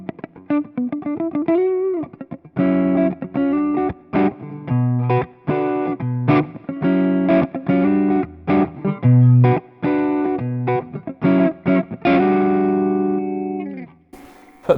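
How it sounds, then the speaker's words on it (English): Electric guitar, a Gibson Les Paul with P90s, through a Vox Night Train 15H G2 valve head with the thick switch engaged, giving a fuller, gritty tone. Brief picked notes open into a steady run of punchy, rhythmic chords, loud and close, ending on a sustained ring. "now I'm going to put the thick switch on so you can hear what that sounds like"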